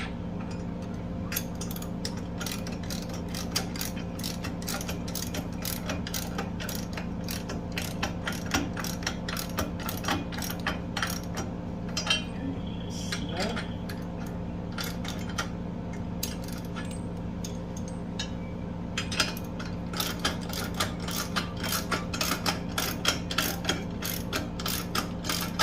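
Ratchet wrench tightening bolts on a step being fitted to a Farmall Super A tractor, a steady run of close, rapid clicks over a constant low background hum, with no talking.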